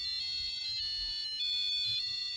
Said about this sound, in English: This is like playing a happy birthday.